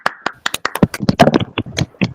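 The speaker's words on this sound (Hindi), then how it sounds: "ठीक है भाई, तालियां बजा दो" A small classroom group claps during a law quiz: quick, uneven individual hand claps, crisp and close, rattling along for about two seconds with no voices.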